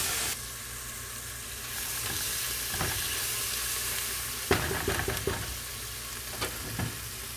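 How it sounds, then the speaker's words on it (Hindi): Garlic, tomato and onion masala sizzles in a frying pan with turmeric and curry leaves, a loud steady close hiss with a few sharp clatters and stirring scrapes partway through. "और अब मैं इसमें ही डाल देती हूँ लहसुन, टमाटर और प्याज का मसाला।"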